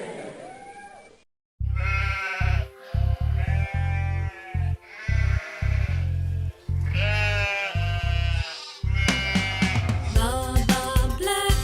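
Sheep bleat repeatedly in loud, wavering calls, close by, in a run of separate bursts with brief pauses and a denser cluster of bleats toward the end.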